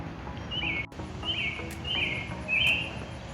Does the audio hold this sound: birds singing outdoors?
yes